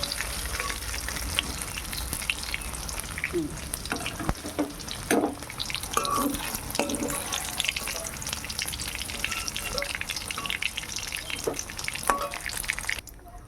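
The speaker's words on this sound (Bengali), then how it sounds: "দেখো আর একটু ভাজা করব। এবার এটা দেখো ভাজা হয়ে গেছে।" Paneer fries in hot oil with a dense, continuous sizzle and crackle. Repeated stirring scrapes and light clinks of a utensil run throughout, close up with no talking.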